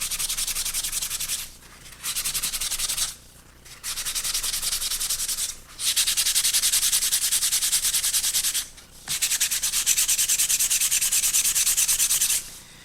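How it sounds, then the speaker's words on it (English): A fine grit sanding pad rubs along the leading edge of a model P-40C Tomahawk airplane wing, giving close, steady scratchy strokes in bursts of a few seconds, separated by brief pauses. "So I'm going to use a sanding pad. This is a fine grit one to kind of help smooth out the leading edge"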